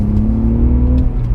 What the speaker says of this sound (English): it blips the throttle for a downshift way easier